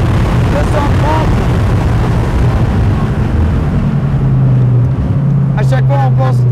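A sports car accelerates hard at high speed, its engine giving a loud, close, continuous roar that climbs in pitch and then settles into a higher sustained drone. Voices are heard inside the cabin under the engine.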